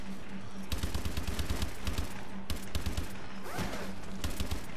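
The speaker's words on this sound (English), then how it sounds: "The turret's kinda going a bit." A turret in the video game Exo Zombies fires rapid automatic bursts, loud and close, in several clusters over a continuous bed of game noise.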